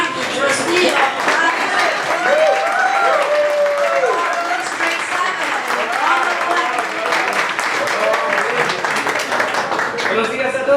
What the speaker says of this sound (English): let's give a round of applause to the Honorable Ben Mackey